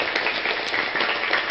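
An audience claps at a debate, a dense, even burst of many hands that stays steady and moderately loud for a short moment.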